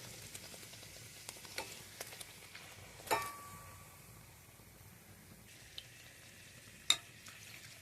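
Small pieces of luchi fry in hot oil with a faint, quiet sizzle broken by a few sharp pops and bubbling bursts.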